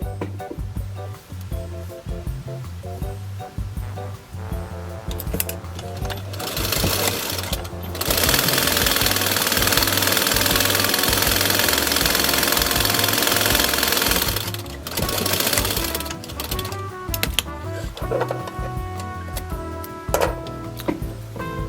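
A sewing machine stitches rows of shirring with elastic thread in the bobbin, running in bursts of rapid rhythmic clatter, with one long steady run through the middle, close and loud with brief pauses between rows.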